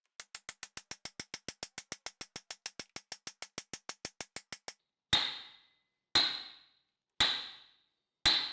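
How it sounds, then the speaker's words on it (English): Mallet blows driving a coupler nut onto the old screw of an 1890s Peter Wright post vise: a fast run of about twenty sharp, even strikes, then four slower, ringing metallic hits with short decays, close and alone. "I just decided to bang it in with a mallet"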